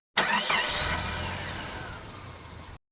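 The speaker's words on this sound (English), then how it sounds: "He started his car." A black SUV's engine cranks and catches, then settles into a steady, close running hum that holds for a couple of seconds before cutting off abruptly.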